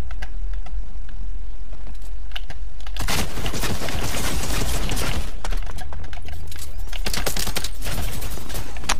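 Minigun fire in Fortnite OG mode rattles loud and close in sustained bursts, with a long dense stretch of rapid shots in the middle and sharper clicks around it.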